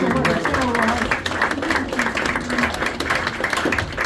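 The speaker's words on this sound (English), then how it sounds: "Let's give a round of applause to Dee." An audience applauding a participant named Dee at a House of Cards magic show in Nashville, a steady dense clapping that fills the whole stretch.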